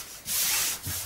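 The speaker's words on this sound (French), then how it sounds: "Je vais venir découper ce nouveau traçage." Scissors cutting through fabric along a traced line on a cushion cover, a close, steady rasping snip that swells loud for about half a second, pauses, then resumes briefly.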